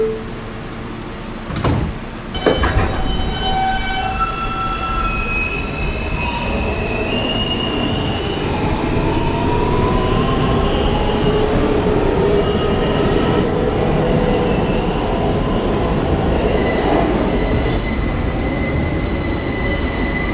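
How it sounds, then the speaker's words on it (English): A Manhattan-bound F local subway train rolls along the track, wheels squealing in high, drawn-out tones over a constant loud rumble, with sharp clanks near the start. "This is a Manhattan-bound F local train."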